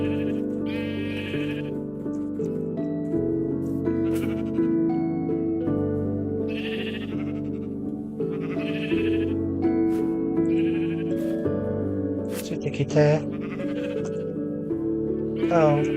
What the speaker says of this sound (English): so the priority is getting an orange sheep up there